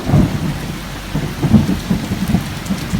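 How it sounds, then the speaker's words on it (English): Gusty wind and heavy rain of a passing squall over a Leopard 40 catamaran at anchor, a steady low rumbling roar with rain pattering throughout. "Windy, rainy."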